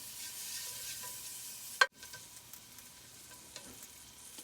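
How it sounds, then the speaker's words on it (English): Two tablespoons of butter melting in a skillet, a soft, continuous sizzle broken by one sharp clank of a spoon or pan, then quieter hissing with faint scraping. "So we're gonna melt this butter"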